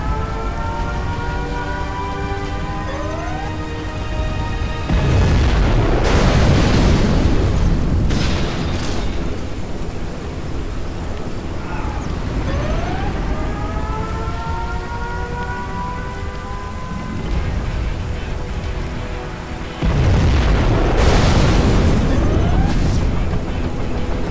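In a video game, a nuclear missile explosion arrives as deep, loud booming rumbles in repeated heavy waves, layered with tonal game music and effects throughout, with no talking.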